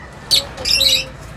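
Several birds squawk inside a giant cage, a sharp shrill call followed by a longer, louder burst of harsh squawking, fairly close and with no talking.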